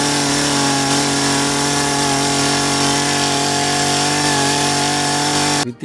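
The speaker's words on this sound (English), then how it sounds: "It is none other than the chainsaw. And I'm pretty sure it's going to sound exactly like this." The legendary chainsaw weapon in Call of Duty Mobile revs at a loud, steady, buzzing pitch for several seconds, alone, then cuts off abruptly at the end.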